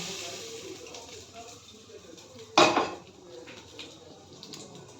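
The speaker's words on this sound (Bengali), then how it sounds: "এবার এইগুলো আমি ভাতের মধ্যে ঢেলে দেবো।" Fried vegetables tipped from a pan into cooked rice for Bengali fried rice, giving one loud clattering scrape of pan and utensil near the middle, with soft kitchen clinks and faint voice around it.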